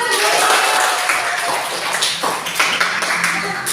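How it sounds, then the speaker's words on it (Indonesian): A classroom full of students claps together after a presentation, a dense, steady patter of many hands close by, with voices mixed in. "Bagus semua ya, tepuk tangan dulu"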